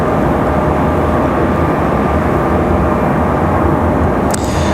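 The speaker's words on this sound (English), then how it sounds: "So here's our Cirrus 22." At night at Raleigh-Durham International Airport, a Cirrus SR-22 light aircraft drones past with a loud, steady engine roar and a brief clatter near the end.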